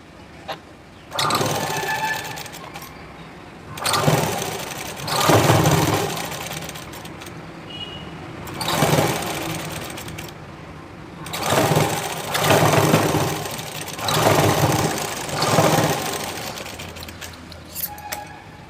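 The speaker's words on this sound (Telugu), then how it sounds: "ఇప్పుడు దీన్ని ఇలా తిప్పుకొని ఇటు వేస్టేజ్ క్లాత్కి వెళ్ళి స్టిచ్ పడేటట్టు కుట్టుకోండి." A sewing machine stitches blouse fabric in repeated whirring runs of a few seconds each, with short quiet pauses between them as the cloth is turned.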